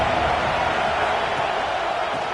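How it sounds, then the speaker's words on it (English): A football stadium crowd produces a broad, steady roar of many voices, loud and continuous without distinct peaks. "This crowd ready to make its presence known."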